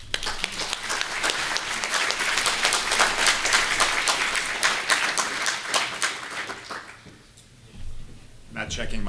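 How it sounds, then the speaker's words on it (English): Keynote audience at an annual meeting breaks into sustained applause, dense clapping that carries for several seconds and then dies away, leaving a brief quiet before a voice starts. "Please give him an applause."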